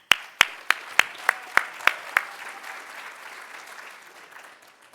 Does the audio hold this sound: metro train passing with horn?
no